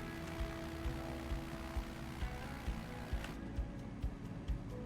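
Rain in a flight simulator game, thickening and turning to snow, makes a steady wash of patter under a low droning hum, with regular soft thumps pulsing through it and no talk.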